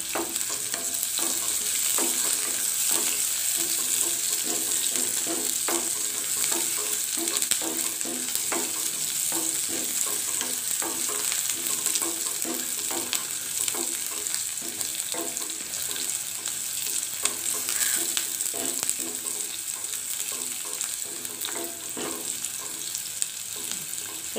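Shallots and thondan chillies sizzle steadily in hot oil, a constant crackling hiss with small pops and occasional stirring, close by and uninterrupted.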